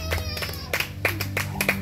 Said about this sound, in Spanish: dele palmas a Dios en esta hora